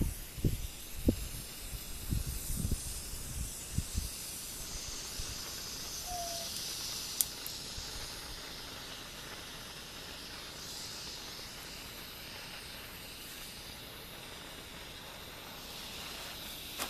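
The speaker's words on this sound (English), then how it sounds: "light the flare, set it down, start stacking wood around it" A burning road flare hisses steadily among wood stacked around it on an icy fire lay, a broad continuous hiss running throughout, with a few sharp cracks and knocks of wood being placed near the start.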